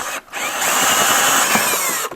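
A power drill bores a hole through thick wood during an outdoor outlet installation, giving a loud, sustained grinding whir of nearly two seconds that starts and cuts off abruptly, with no talking.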